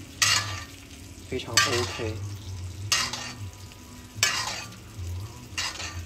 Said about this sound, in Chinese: 牛排放在这一侧，把它刚才用黄油烤的汁集中在这里，然后往上浇